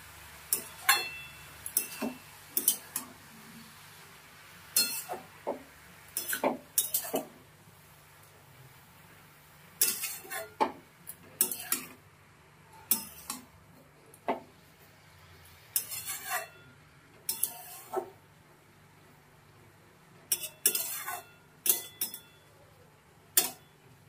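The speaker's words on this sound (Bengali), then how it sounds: "লাউটাকে ভালো করে নাড়ানো হয়ে গেছে।" A metal utensil stirring bottle gourd in a pan, giving sharp, irregular clinks and scrapes spread over a long stretch, each separated by short quiet gaps, close and clear with no talk.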